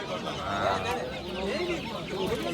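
Chickens and roosters cluck and call close by at a poultry market, a busy overlapping chatter of fowl with people talking underneath.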